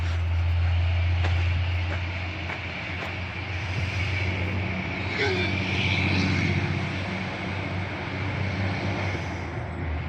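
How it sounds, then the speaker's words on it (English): A big, loud truck hauling a large excavator rumbles past with a steady low engine drone and a brief rising whine midway, heard from nearby under some background talk. "It's a loud truck."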